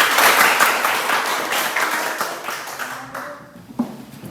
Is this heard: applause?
yes